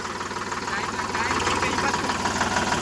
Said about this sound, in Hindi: ट्रैक्टर हो गया है दोस्तों चालू